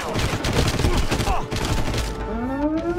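Gunfire in a video game comes as a quick, dense burst of sharp cracks layered with game sounds, loud and close for a few seconds.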